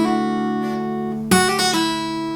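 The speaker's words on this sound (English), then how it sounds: "you're doing a pull off with your ring finger" Fingerpicked acoustic guitar notes ring out, with a sharp new attack midway as a ring-finger pull-off sounds, followed by quick further notes and sustained decaying tones, played alone with no talking.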